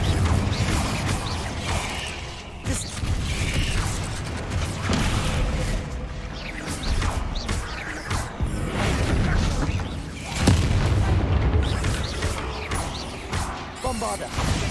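Fiery explosion spells cast repeatedly in a Harry Potter video game, a dense, continuous run of crashes, booms and magical whooshes layered with game effects, loud throughout with a stronger burst near the middle.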